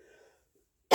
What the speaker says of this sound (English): And I'm going to cough again.